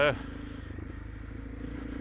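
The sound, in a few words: Honda CRF300 Rally motorcycle engine in third gear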